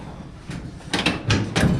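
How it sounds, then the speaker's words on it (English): The door of a 1958 GMC Apache pickup truck, being restored with a new 454 engine, opens with a few close, heavy metallic clunks and rattles over low background rumble. "can you open this door?"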